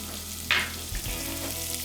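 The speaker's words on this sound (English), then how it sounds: "Now we're going to use the bacon grease that's already in the pan to saute our vegetables" Carrots and other vegetables start sautéing in bacon grease left in the pan, a short burst of hiss as they drop in, followed by a soft, even sizzle with a faint low thump.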